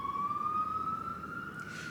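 An ambulance siren wails in one long, steady tone that rises slightly in pitch, heard from a distance through a room with no talking over it.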